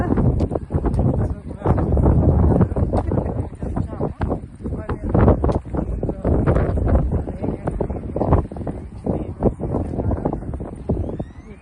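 Strong gusts buffet the microphone in rough, uneven bursts on a lakeside walking trail in Pflugerville, Texas, with faint voices beneath the rumbling outdoor wind.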